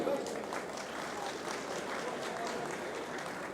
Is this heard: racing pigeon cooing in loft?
no